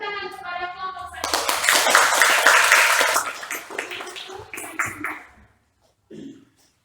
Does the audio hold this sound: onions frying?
no